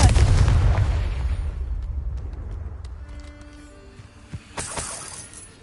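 In the Hogwarts Legacy video game, a Confringo explosion spell blasts with a loud, deep boom that slowly fades over several seconds, followed by a few small crackling pops and debris sounds near the end.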